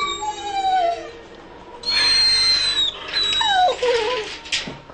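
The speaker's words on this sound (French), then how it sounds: "Les lévriers sont là. Près de 400 chiens installés par 3 ou 4 dans des boxes de béton." Greyhounds in a concrete-boxed kennel let out high-pitched whimpers, yips and whining barks, several overlapping cries rising and falling close by, with a sharper bark near the end.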